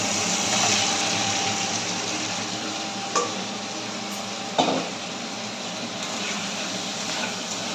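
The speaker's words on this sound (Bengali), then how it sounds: "মশলা ভাজা হয়ে গেছে, সবজি দিয়ে দিলাম" Vegetables tossed into spices frying in a pan for a rohu fish curry, giving a steady close sizzle with a few sharp clinks of stirring, no one talking.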